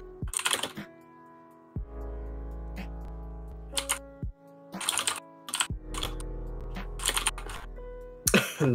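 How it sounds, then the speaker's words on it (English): Someone types on a computer keyboard in quick bursts of clattering keystrokes, loud and close, separated by short pauses over a steady low hum. "Intense keyboard."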